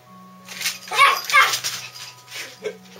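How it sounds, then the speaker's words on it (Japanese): A toy poodle meeting a tortoise gives a few soft yips and whimpering barks, close by, in quick bursts over a quiet indoor hum, with a voice speaking softly around them. "こんな吠えたらダメでしょ。"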